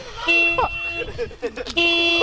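A car alarm sounds from a Ford Explorer with steady electronic horn tones that pause and resume, loud and close, while people talk over it.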